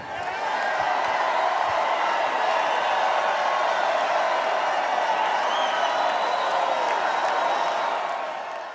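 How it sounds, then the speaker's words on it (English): A large convention crowd gives a standing ovation as Peter Navarro takes the stage, with continuous dense applause and cheering that swells quickly and holds loud and steady throughout, a few whoops rising over the roar. "getting a standing ovation from the convention crowd as he took the stage"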